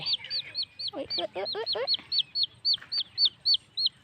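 Repeated short chirping calls from small chicks with chicken clucks in between, steady and fairly close, a busy poultry sound with no talking.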